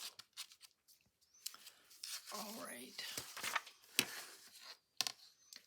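Scissors cutting paper for an envelope journal, a series of close, crisp snips and rustles, with some quiet talking in between.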